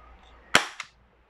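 A Kjworks MK1 airsoft toy gun fires one sharp, loud pop, followed a fraction of a second later by a softer second click, against a quiet background.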